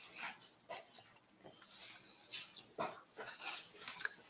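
Dogs whimpering and giving faint yips indoors, a series of quiet, uneven bursts at a distance, heard alone with no talking.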